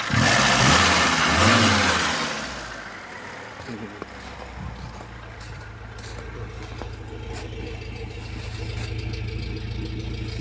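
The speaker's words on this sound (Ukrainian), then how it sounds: "Моторчик працює дуже добре." A warmed-up VAZ 2101 engine runs steadily, revving loudly at first before settling into an even idle, with a voice briefly talking near the start.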